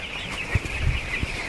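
Chickens on a Kerala poultry farm hit by a stray-dog attack give a few soft, low clucks under a steady hiss and high background whine, and chicks are present.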